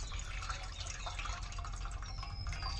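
Tamarind pulp squeezed and mixed with water by hand for Bengali puchka tamarind water, giving soft, steady wet dripping and sloshing close by, with no talking.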